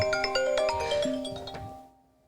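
A phone rings in the video game It Takes Two, a bright electronic ringtone of repeating tones that sounds clearly for about two seconds, then cuts off into silence.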